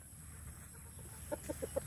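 A chicken gives a short run of about four quick clucks near the end, close and fairly clear, after a stretch of quiet rustling background.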